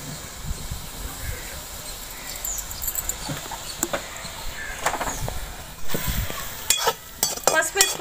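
A spoon stirs turmeric into a frying goat heart mixture, soft scraping and clinking against the pan over a faint sizzle, with irregular louder knocks toward the end.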